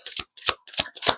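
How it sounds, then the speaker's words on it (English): A deck of cards being shuffled up close, four quick riffling bursts with short gaps between them, crisp and papery, with no voice over them. "we'll get a couple more shuffles"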